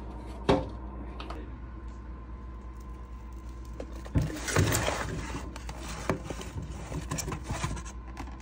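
Beef bologna being sliced with a knife on a cutting board at home, giving a few scattered knife taps and scrapes early on, then a denser burst of chopping and clattering noises, close and moderately loud, with no talking.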